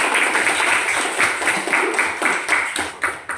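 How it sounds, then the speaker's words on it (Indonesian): A classroom of students claps hands together on cue, a loud, fairly steady run of overlapping claps with periodic bursts, close by and without talk. "Kasih tepuk tangan yang begini."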